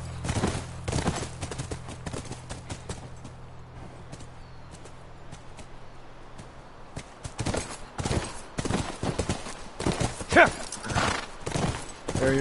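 A horse in the video game The Last of Us Part II clip-clops at a walk, hooves thudding steadily and growing louder toward the end, with a whinny and faint game ambience.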